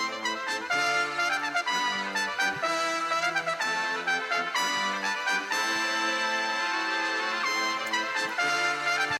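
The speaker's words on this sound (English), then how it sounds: "We actually remade the entire trumpet in Contact." A recreated trumpet sample played in Kontakt sounds a bright, brassy melodic phrase of punchy staccato notes and held tones. It sits inside a loud, dense electronic production and plays without any voice.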